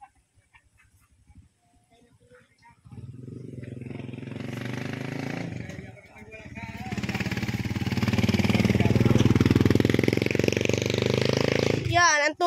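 A motor vehicle approaches and rumbles past close by on a storm-damaged road, growing louder and then fading, with brief voices at the start.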